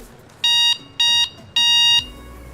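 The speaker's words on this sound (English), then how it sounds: "Finally, you've got a horn, which is this green button right below, and it sounds like this." Horn on an EMOVE Cruiser electric scooter gives three loud electronic beeps, two short and one longer, alone apart from faint room noise.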